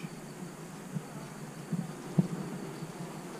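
Honey bees hum in an opened hive, their lid crawling with bees. A soft, steady drone sits low and close, with a few small bumps and no talking.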